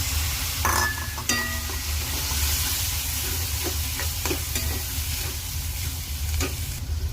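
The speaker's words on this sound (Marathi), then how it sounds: "आता यामध्ये मेथी टाकून चांगलं परतून घ्यायचं आहे" Fenugreek leaves stir-fried in a hot pan, a steady close sizzle with scraping and clinking of a spatula against the metal running throughout.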